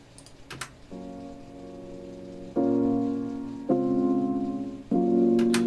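Piano chords from the original ending of a beat track: after a few faint clicks, sustained chords enter, then three louder chords strike at even intervals and ring out between hits.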